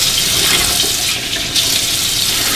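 Hot water splashed onto the face to warm it before lathering with Williams mug shaving soap for a safety or straight razor shave, a steady close rush of running and splashing water that briefly dips near the middle.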